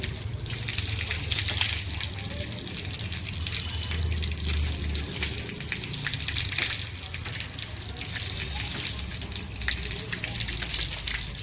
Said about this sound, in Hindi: पूरे चेहरे को 3 मरतबा धोना।